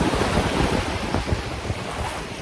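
Sea waves wash steadily onto the shore in a continuous broad surf rush, with wind buffeting the microphone throughout and no voices.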